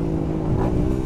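A retuned Raider 150 Fi motorcycle engine with a reworked ECU, throttle blipped into a strong, close, buzzing rev that holds steady for about a second with no talking.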